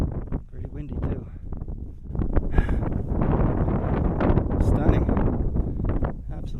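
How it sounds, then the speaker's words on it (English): Gusty wind buffets the microphone in strong, rumbling bursts on the Four Pass Loop trail near Maroon Bells, Colorado, with a voice talking underneath. "Pretty windy too."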